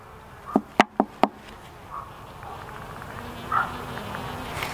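Four quick, sharp taps strike a wooden beehive up close, followed by a faint, low hum of bees with a few buzzy passes nearby.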